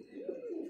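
A pigeon from a prized fancy loft gives a single soft, rolling coo, close and fairly faint, lasting under a second with no talk over it.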